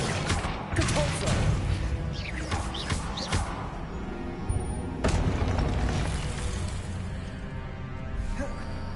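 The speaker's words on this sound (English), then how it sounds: "Compulso!" A Compulso spell blast in a Hogwarts video game lands as a series of sharp booming impacts and crashes, with several strong bursts near the start and another around the midpoint, trailing into a rumbling wash.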